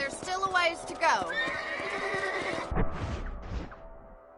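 Horses in the Red Dead Redemption video game neigh and whinny loudly several times, with clip-clop hoofbeats underneath and a voice speaking partway through.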